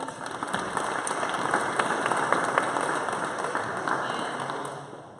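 Steady round of applause from a seated audience at a Kansas City startup pitch event, a dense even wash of clapping lasting several seconds without speech.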